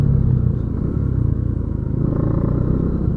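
A Bajaj Dominar 250 motorcycle engine idles close by with a low rumble and a steady, clattering rattle running through it, a fault that appeared after servicing.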